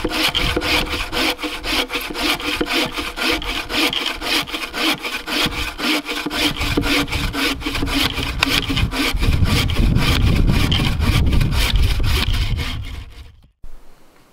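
A hand saw cutting firewood at a solo kayak campsite, with rapid, regular back-and-forth strokes close to the microphone, getting heavier toward the end before stopping abruptly.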